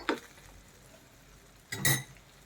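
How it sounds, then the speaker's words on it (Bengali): Mutton brain curry just dusted with garam masala powder is stirred gently, producing two brief, soft spatula scrapes against the pan separated by near silence. "দিয়ে হালকা একটু নেড়ে চেড়ে নেব"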